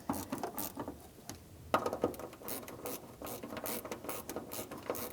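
Rapid metallic clicking of a socket wrench ratchet hand-snugging the fuel pump cover nuts on a 2003-2007 Honda Accord, steady close clatter in short bursts with no talking.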